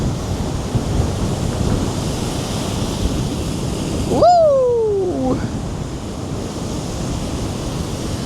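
Sea waves roll onto the shore at Cleveleys on a windy day, a loud continuous wash of surf with wind buffeting the microphone, interrupted midway by a single sliding vocal whoop.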